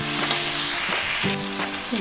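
Potatoes frying in a pan sizzle loudly and continuously at close range, with a few scraping stirs of the spatula breaking through the steady hiss.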